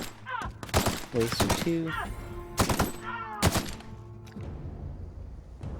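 Gunshots from a gun in The Outer Worlds ring out as a series of sharp, loud single shots at uneven intervals, mixed with game sound effects and a voice talking between them.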